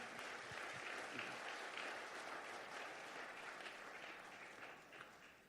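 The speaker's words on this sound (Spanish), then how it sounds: "Denle un aplauso a Dios" A church congregation applauds God during a service, a faint, even wash of many hands clapping that holds steady and slowly fades, with no voices over it.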